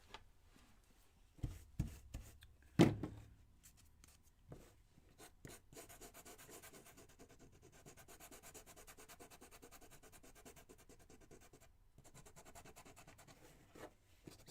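Hand sanding of a black-and-white painted wooden shelf from a DIY kit: a few sharp knocks and scrapes at first, then steady, close, soft rubbing strokes continue throughout, with no voices.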